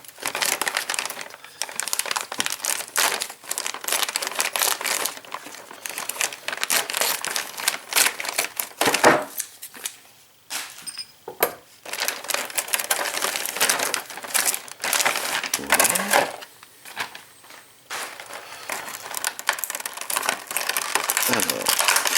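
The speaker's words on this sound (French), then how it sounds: "on va donc déballer les pièces ici présentes." Eaglemoss Ecto-1 1/8-scale model parts are unwrapped from their packaging with continuous close crinkling and rustling of plastic and paper, steady throughout with brief lulls.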